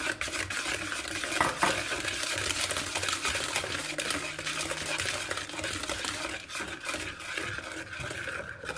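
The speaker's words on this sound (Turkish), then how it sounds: "Üzerine bir buçuk su bardağı sütü ilave ediyorum karıştırmaya devam ediyorum" Steady whisking as milk is stirred into a sweetened spinach cake batter in a bowl, a continuous close scraping and sloshing texture with no voices.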